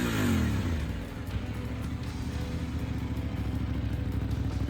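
An Aprilia Tuareg 660 Factory adventure motorcycle's middleweight engine runs loud and close, its steady low throb pulsing with a rev rise at the start, heard alone without talk.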